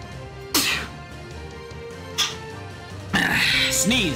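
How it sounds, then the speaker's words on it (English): A person sneezes in several sharp, noisy bursts with gaps between them, close and loud, and the last burst runs into vocal sounds. "Sneeze."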